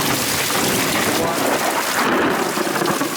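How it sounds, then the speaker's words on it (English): Heavy rain pours down loudly and steadily during a flash flood on rural land, with deep rumbling thunder close by. Water runs across a garden and into a ravine beside the yard. "Ooh, that lightning is close."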